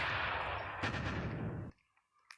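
Explosions and gunfire from the Tank Hero tank battle video game form a dense, continuous barrage of rapid blasts that stops abruptly, leaving near silence with a couple of faint clicks.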